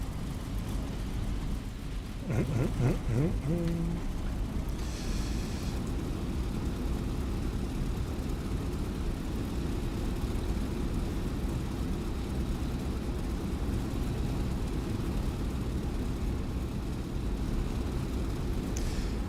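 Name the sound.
P-47 aircraft engine before takeoff in video game DCS World War II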